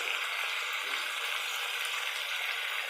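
Pork pieces sizzle steadily in hot oil in a pan after a pinch of salt is added, giving a dense, even hiss that continues without pause and with no voices.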